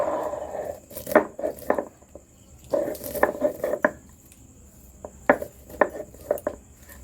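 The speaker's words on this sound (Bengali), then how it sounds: "এবার আমি বাদামটাকে শিলেতে মিক্সড করে বেটে নিচ্ছি।" Fried peanuts crushed by hand on a stone grinding slab, a series of close, dry scraping and knocking strokes in two uneven bursts with short pauses between, no voices.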